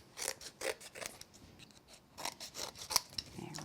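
Scissors trim paper around a die-cut card piece, producing a series of quiet, crisp snips and rustles in an irregular rhythm close by.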